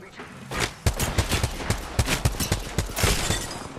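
Rapid gunfire in a video game shootout, a dense string of sharp shots cracking at irregular, closely spaced intervals, loud and close, several shooters firing at once.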